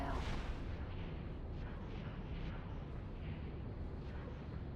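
Missile explosions in the space game X4 Foundations, a dense, steady rumbling roar of blasts and booms with little pause, heard fairly low in level.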